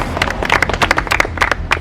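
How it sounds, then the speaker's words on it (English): Loud, dense applause from a game-show contestant group, a steady patter of many hands clapping close by throughout, with no talking over it. "Let's give yourselves a round of applause"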